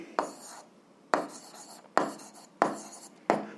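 A pen or pencil writes out an algebra answer in short scratchy strokes, five distinct bursts close to the listener, each starting sharply and trailing off, with no other sound.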